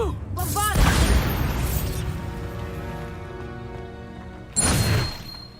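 A loud Bombarda explosion spell goes off in Hogwarts Legacy, a heavy booming blast that decays into a long rumbling tail, followed by a second burst near the end, with brief voice sounds around it.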